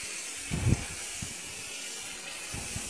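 Ground poppy seed and peanut paste sizzles in hot oil in a kadai, a soft steady hiss with a couple of brief louder spatters near the start, faint and close.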